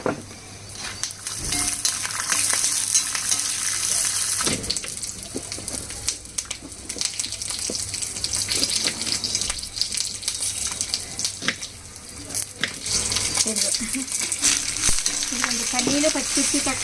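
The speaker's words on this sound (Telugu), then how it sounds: "ఒక సైడ్ ఈ పల్లీలు వేగిస్తున్నాను అనమాట" Peanuts frying in a pan, a busy continuous sizzle close by with clattering stirring and scraping sounds on and off.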